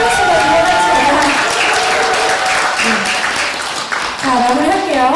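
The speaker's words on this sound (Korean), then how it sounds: "박수 치시면" Sustained audience applause fills a hall at a business growth camp seminar, dense and loud, with voices and cheering mixed into the clapping.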